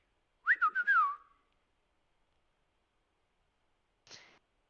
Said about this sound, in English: puts his fingers up to his mouth and whistles